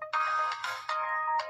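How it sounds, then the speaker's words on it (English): A tonal chime plays as an LG capacitive touchscreen cell phone starts up, several bright sustained electronic notes in a short melodic sequence, clear and alone. "it does have the same startup and shutdown sound"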